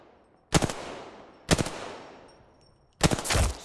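Gunfire in Apex Legends during an ALGS tournament match: three separate loud shots or short bursts, each with a sharp attack and a fading echo tail, spaced about a second or more apart.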